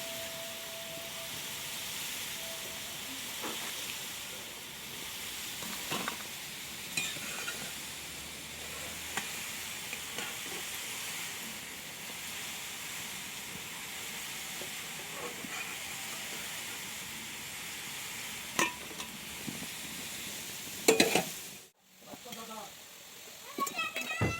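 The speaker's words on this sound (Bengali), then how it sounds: "এখন ভালো করে উল্টায় পাল্টায় ভেজে নেব" Moong puli dumplings fry in hot oil with a steady, soft sizzling hiss, broken by occasional clicks and a louder clatter near the end as they are turned.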